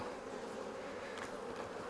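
Honeybees buzz in a steady, close, continuous drone, with no voices.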